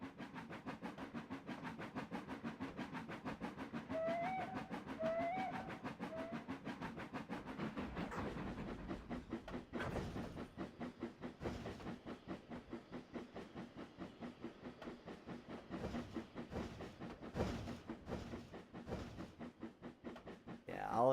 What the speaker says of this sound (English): watch our train go by